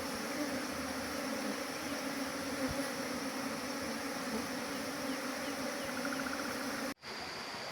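Steady, dense insect buzzing from a colony of Apis cerana bees, continuous and fairly close throughout, cutting out briefly near the end before resuming.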